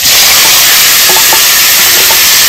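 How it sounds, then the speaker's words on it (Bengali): Marinated fish pieces hit hot oil with cumin seeds in a pan, a loud, dense sizzling hiss filling the whole moment, with a few faint clinks underneath and no talking. "এবার দিয়ে দেবো ম্যারিনেট করে রাখা মাছগুলো"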